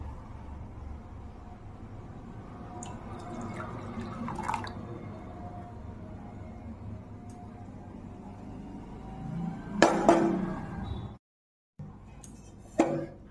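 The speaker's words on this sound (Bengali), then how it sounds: "এখন আমি ঢেলে নিচ্ছি চা।" Homemade red tea pours into a cup in a steady, trickling stream against a soft background hiss, with a few brief clinks and a short silent gap near the end.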